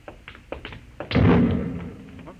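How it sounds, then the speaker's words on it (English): An explosion sound effect in an old-time radio drama: a few light taps lead into a sudden dull, heavy boom that swells and then slowly fades away. "No, that was an explosion."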